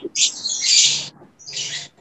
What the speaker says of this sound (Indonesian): Ini enak juga ya sambil ngomong ada latar belakang suara-suara burung gitu ya.